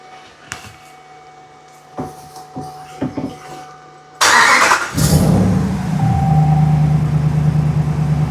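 A 2014 Ram 1500 4x4 pickup starts up after a few clicks and small knocks, the engine catching with a loud burst and then settling into a steady close idle.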